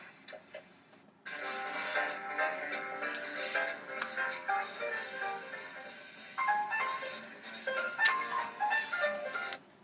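A jazz big band plays a recording: a full, bright ensemble that enters after a quiet opening and swings steadily, with a louder surge of horns near the end.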